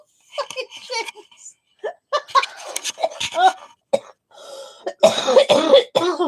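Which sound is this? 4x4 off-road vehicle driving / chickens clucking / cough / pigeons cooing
cough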